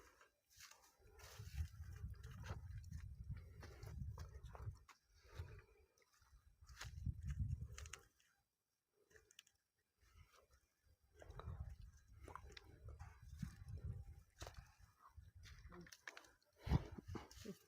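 Water gushing in splashing bursts over a farmer's cow as it is washed for Mattu Pongal, pumped from a borewell by motor, coming in several long pours separated by pauses, close by, with some faint talk.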